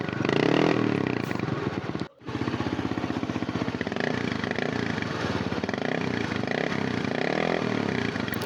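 A Bajaj 4S motorcycle engine idles close by with a steady, throbbing putter, briefly cutting out for a moment before resuming its even rhythmic chug.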